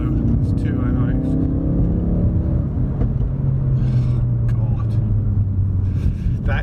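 A Ford Focus RS drives along with a steady engine drone and low rumble, the pitch sliding gradually lower and higher as it runs, with people talking inside the car over the engine.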